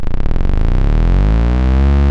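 A loud, steady electronic synth tone from VCO1 of a Behringer CAT synthesizer, with a buzzing, rapidly pulsing texture that smooths out and drops slightly in pitch as it continues.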